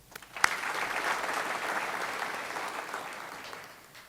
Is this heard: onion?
no